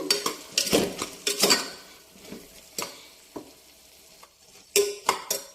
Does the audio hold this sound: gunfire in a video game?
no